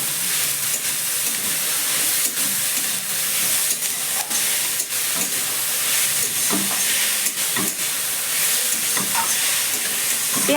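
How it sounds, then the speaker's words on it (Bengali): Drained grated raw potato hits a hot pan with onion and capsicum, giving a loud, steady hiss and sizzle with repeated close scraping stir strokes throughout, no voices. "এবার জল ঝরানো কাঁচা আলুটা আমি দিয়ে দিচ্ছি।"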